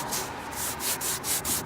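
Vinyl is sanded by hand with 180-grit sandpaper, loud close rhythmic back-and-forth rubbing in steady strokes of roughly even pace.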